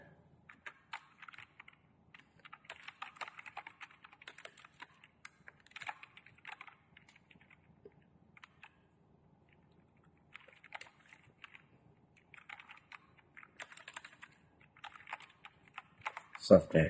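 Typing on a computer keyboard while entering text in video editing software: quiet, close bursts of rapid key clicks separated by pauses, with a person talking throughout.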